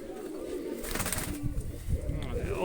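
A pigeon coos among a pair being shown by hand, soft throaty calls close by under a voice and background shuffling.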